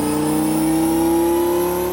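A Dodge Viper GTS with an 8-liter V10 engine revs on a dyno with a steady, loud, rising engine drone that holds close and unbroken throughout, with no voices.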